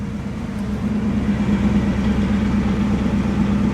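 A 1953 Buick Skylark Convertible engine idling close by, a steady low, even rumble with a smooth throbbing pulse and no revving.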